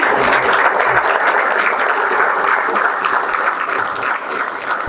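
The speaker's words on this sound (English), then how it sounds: "Can we all have a standing ovation for our chief guest" An audience at an incubator forum inauguration gives the chief guest a standing ovation, with loud, continuous applause from a large crowd that holds steady for several seconds and eases slightly toward the end.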